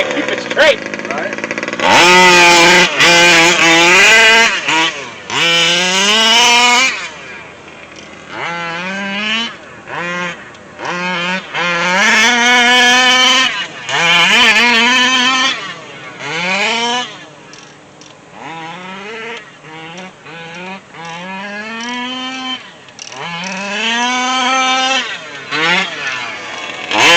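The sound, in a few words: King Motor Baja 5B RC car driving, 38cc engine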